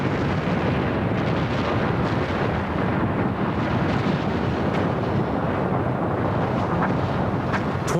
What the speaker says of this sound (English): a huge explosion bursts out from the north face of Mount St. Helens